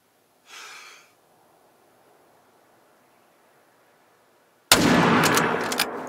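A rifle shot from the hunting video game theHunter: Call of the Wild, preceded by a soft breath-like rustle, then a sudden loud crack that rolls into a sustained noisy echo until the end.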